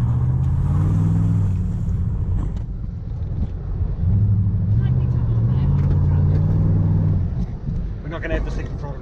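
A 6-litre L98 Chevrolet V8 fitted in a Nissan Patrol rumbles loudly at close range, its pitch rising and falling as the engine revs, with voices talking over it.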